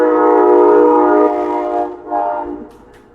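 Train horn sound effect: a loud, sustained chord-like blast that holds for over a second, then drops and sounds again in two shorter pulses before fading out.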